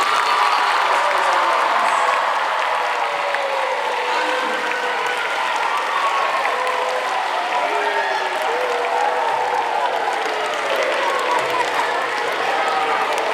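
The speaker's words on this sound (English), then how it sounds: "let us all give a big round of applause" A large crowd claps steadily and loudly for over ten seconds at a school mock parliament event, a dense sustained roar of applause from a big audience.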